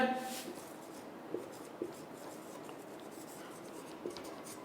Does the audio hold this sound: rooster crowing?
no